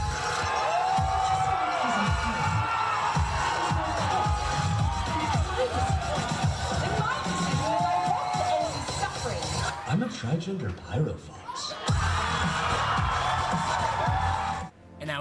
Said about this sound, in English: Loudest I've ever heard a crowd at a dance comp